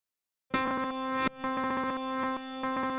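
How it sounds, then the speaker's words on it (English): A sustained electronic tone from a Native Instruments Maschine Mikro MK3 starts abruptly and is chopped into repeating, stuttering fragments, with a glitchy reversed feel and small gaps between the looped pieces. "So it actually kind of reverses it and repeats like a kind of section."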